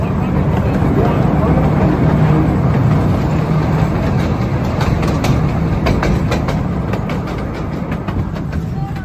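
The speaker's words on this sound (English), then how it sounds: "Soon after, the train passed over this bridge, creatively made out of an old turntable." A train rolls across a bridge built from an old railway turntable at a transportation museum, giving a steady, loud rumble with rhythmic clicking from the wheels throughout.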